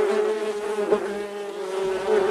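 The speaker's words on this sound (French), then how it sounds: "il y a plein de guêpes dans ma chambre et tout" Many wasps buzz steadily inside a bedroom, a close, continuous droning hum with slight swells in pitch and loudness, no voices.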